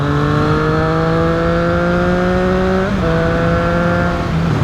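A Triumph Street Triple 660 S motorcycle, restricted for the A2 licence, hums with a steady engine tone that climbs gradually, dips briefly as it shifts, then carries on close and loud.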